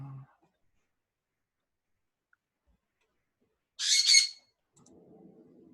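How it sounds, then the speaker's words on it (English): A pet bird lets out one short, loud squawk at a mobile dog grooming session, brief and close, amid near silence with faint murmuring afterward. "Bird's getting excited."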